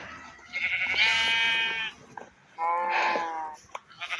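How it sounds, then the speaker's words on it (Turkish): Two drawn-out, quavering bleats from a nearby sheep, separated by a short pause, with faint background noise in between. "Etraftan koyun moyun bir durum."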